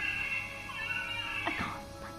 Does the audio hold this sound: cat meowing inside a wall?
yes